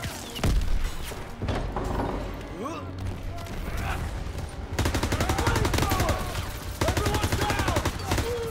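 Combat in the World War II shooter Call of Duty: WWII: a heavy, close blast near the start, followed by dense, rapid bursts of gunfire and mechanical clatter, with voices shouting over the firefight.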